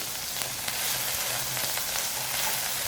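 Garlic-ginger paste frying in hot oil with fennel and nigella seeds, a steady close sizzle with faint crackles and occasional stirring taps.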